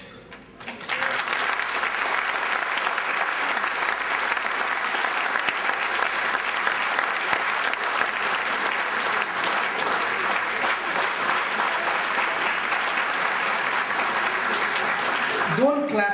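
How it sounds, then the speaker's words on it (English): Sustained, loud applause from a large school concert audience at the First ODA concert in 2007, steady clapping that swells in after a second and continues unbroken for about fifteen seconds. "Don't clap so much."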